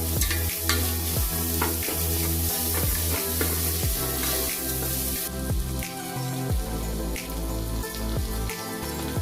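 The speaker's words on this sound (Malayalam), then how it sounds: "ഞാൻ രണ്ട് സവാള കട്ട് ചെയ്തെടുത്താണ് ഇതിലേക്ക് ആഡ് ചെയ്തിരിക്കുന്നത് ഇതിനെ നല്ലപോലെ ഒന്ന് വഴറ്റിയെടുക്കണം" Two chopped onions sauté in a pan for Arabic tomato rice, with a loud, continuous sizzle and a steady rhythm of spatula strokes scraping and tapping the pan close up, and no one talking.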